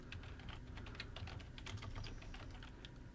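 Quiet, steady typing on a computer keyboard, a close run of soft, rapid key clicks with no voices.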